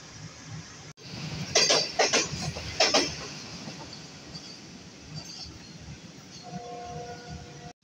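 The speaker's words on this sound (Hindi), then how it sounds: "ग्रीन लाइन 6 नाउन जो कि इस्लामाबाद से कराची जाने वाली ट्रेन है वो मेन लाइन से थ्रू पास होगी।" A Green Line passenger train from Islamabad to Karachi passes through Taraki railway station in Pakistan without stopping, with a rumbling, clattering roll and rhythmic wheel clanks on the main line, followed by a quieter hum and a brief tonal whine.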